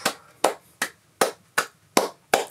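Seven sharp hand claps in a slow, steady rhythm, close and distinct with short gaps between them, no voices present.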